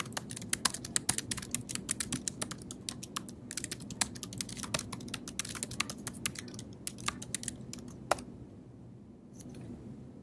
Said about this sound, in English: Now I can start typing.